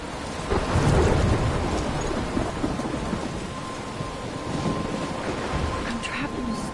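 A thunderstorm in Life is Strange rolls with a heavy thunder rumble near the start over constant hissing rain, loud and enveloping, easing slightly but staying steady throughout.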